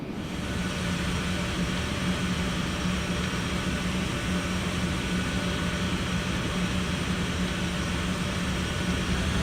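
Simulated Boeing 757 taxiing in Prepar3D, a steady droning engine rumble with a faint high whine, continuous and even throughout with no voices.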